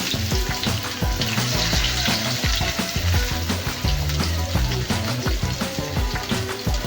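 Mustard seeds, cumin, chopped onion and green chili fry steadily in a hot pan for a goat blood fry, a dense continuous sizzle with loud, busy crackling throughout and no talking.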